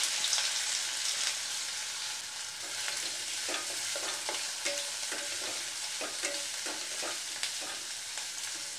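Sliced bitter gourd stirring and frying in a hot pan, a steady close sizzle with repeated scraping strokes of the spatula, no voices.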